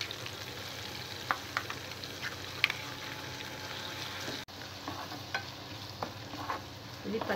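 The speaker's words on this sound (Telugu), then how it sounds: "ఇది పచ్చి వాసన పోయే వరకు వేయించుకోవాలి." Masala paste fries in oil for a bottle gourd curry, giving a steady close sizzle with scattered stirring scrapes and small pops throughout.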